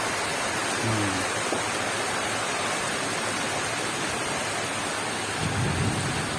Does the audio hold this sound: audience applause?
no